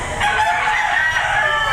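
A rooster crows loudly and steadily at a busy chicken market behind SM City Lipa in Batangas, one drawn-out call filling most of the moment over a bustling background.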